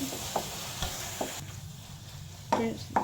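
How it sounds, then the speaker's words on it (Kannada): Chopped tomatoes fry in a pan with a constant sizzle, while a spoon scrapes and taps the pan in several distinct strokes, a little louder toward the end. "ಟೊಮೆಟೊ ಹಣ್ಣು ಇವಾಗ ಚೆನ್ನಾಗಿ ರೋಸ್ಟ್ ಆಗೈತೆ, ಚೆನ್ನಾಗಿ ಫ್ರೈ ಆಗೈತೆ"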